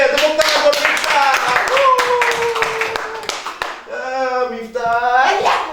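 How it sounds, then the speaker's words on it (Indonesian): An audience claps for a blind judo athlete at a talk event, with brisk clapping under voices that speak and call out over it, plus some vocal sounds near the end. "tepuk tangan buat Miftah."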